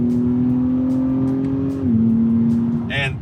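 Engine note of a 2024 Acura TLX Type S in sport mode, a steady drone that dips in pitch as the automatic upshifts to fourth gear, with a brief chirp near the end.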